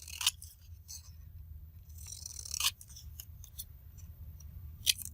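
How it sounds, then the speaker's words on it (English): Scissors snipping paper ephemera and book pages into journal cards: a few quick, crisp, close snips spaced irregularly over a quiet background with faint rustling. "Just some quick snips. Different sizes."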